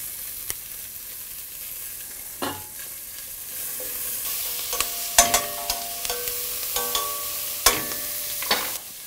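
Vegetables with a little salt and bay leaves sizzle in a hot pan at close range, with intermittent sharp scrapes and clatters of stirring over a steady frying hiss.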